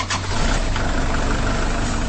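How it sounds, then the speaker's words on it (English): A Kubota Grand L60 compact tractor's common-rail Tier 4 diesel engine runs steadily at idle, a close, continuous low rumble with no voices. "That's the sound of Kubota's new Grand L60 Series compact tractor with all new common rail"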